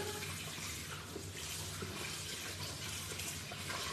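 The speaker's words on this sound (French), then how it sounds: "je rince juste le moule" Running tap water rinsing a cake mould in a kitchen sink, a steady close hiss and splash throughout with no talking.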